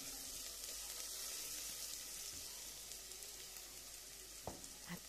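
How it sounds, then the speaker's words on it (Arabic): Onion sautéing in a pan of oil with a spoonful of ghee gives a steady, soft sizzle and crackle throughout, with a couple of brief clinks of a stirring utensil near the end. "على شويه الزيت ومعلقه السمنه، رحت حاطه البصلايه بتاعتي، شوحتها كويس جدا"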